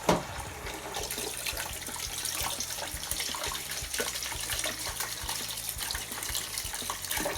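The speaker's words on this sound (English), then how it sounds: "I'm just pouring some hot water." Hot water pours steadily over a detergent drawer removed from an old Bosch washing machine, held at a sink, a continuous close splashing gush running unbroken the whole time.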